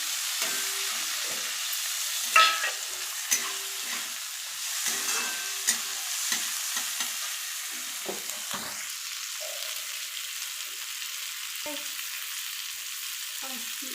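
Chopped tomatoes sizzle and fry in a pan as they are stirred into dal, with steady background hiss and intermittent scraping stirs, close by and without talk.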